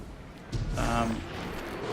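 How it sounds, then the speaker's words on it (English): A small explosion triggered by activating a rift in the shooter Destiny 2, a muffled boom with a short rumbling tail near the middle, set amid game background sound and a voice talking. "Every time you activate a rift, a little explosion happens"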